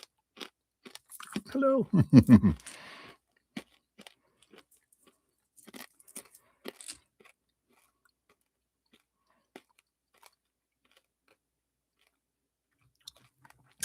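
Crunching and chewing food close to the microphone, a burst of crisp bites followed by scattered quieter chews and clicks, with a brief spoken greeting.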